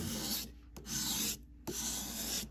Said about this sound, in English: So I've been sharpening this side of the knife, the burr appears on this side.